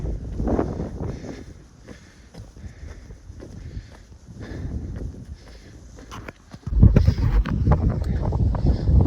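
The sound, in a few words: wind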